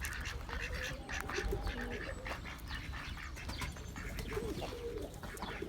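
Ducks quack amid a noisy mix of farmyard birds, with pigeons cooing and a dog barking now and then, faint voices in the background.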